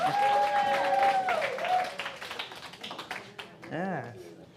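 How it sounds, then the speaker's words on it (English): Applause from a church congregation at a Sunday celebration service for singers, brief clapping mixed with voices and sung tones, fading into scattered claps and talk near the end. "can we give Marcy and Jan and Will another round of applause?"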